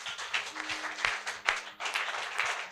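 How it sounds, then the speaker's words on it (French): A church congregation applauds and cheers God during a French sermon, with steady crowd clapping and scattered shouts running throughout at moderate volume. "Acclamons fortement notre Dieu"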